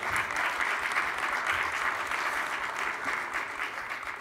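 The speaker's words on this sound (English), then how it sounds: "let's give one more round of applause for Mayor de Blasio." A room of mayors at a working lunch on women in sports gives a round of applause for Mayor de Blasio, full sustained clapping from a crowd, steady and close throughout.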